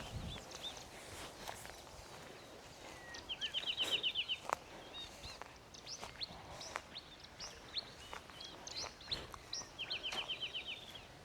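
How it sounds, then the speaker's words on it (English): Small birds chirp in short repeated trills behind a house in a residential estate in Tatu City, Nairobi, Kenya, fairly faint and spread out, with footsteps crunching underneath. "You can feel the chirping of the birds at the back of your house here."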